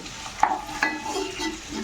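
Fish frying in oil in a pan on the stove, a soft continuous sizzle with a couple of brief stirring scrapes near the start, fairly quiet and close, no talking.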